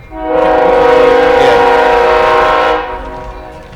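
A passing train sounds a long, loud, steady horn that swells in quickly, holds for a couple of seconds, then fades, with rumbling underneath.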